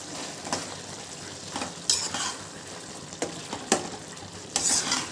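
Aloo (potato) gravy bubbling in a pan on the stove, with scattered stirring scrapes and clinks of a spoon against the pan over a low, steady simmer and no talking.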